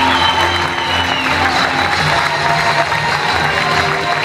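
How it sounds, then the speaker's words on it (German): Crowd clapping for an aerial silks duo performance, loud and dense, mixed with music and a murmur of cheering. "Dieser Applaus ist nur für euch."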